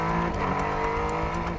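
Twin-turbo 550-horsepower Renault Sport Trophy race car engine accelerating on a winding circuit, a brief, loud, close rising roar with rapid pulsing bursts across the short stretch.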